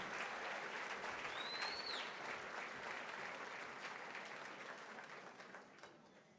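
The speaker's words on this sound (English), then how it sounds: "together, give yourselves a round of applause" An audience at a memorial breakfast claps in a dense, even wash of applause that slowly fades, with a brief whistle-like tone near the start.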